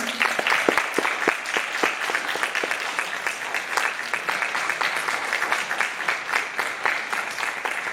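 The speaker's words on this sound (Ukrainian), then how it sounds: "Зустрічайте оплесками!" Audience applause welcoming a singer at a jubilee celebration: sustained, even clapping from a sizable crowd, crisp individual claps standing out near the start, then a steady rolling wash with no speech.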